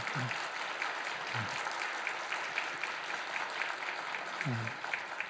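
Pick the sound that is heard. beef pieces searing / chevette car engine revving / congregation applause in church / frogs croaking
congregation applause in church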